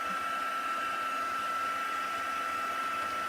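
A hair dryer runs steadily at close range, blowing to dry a small damp craft piece, with a continuous even whir and a sharp tonal whine throughout.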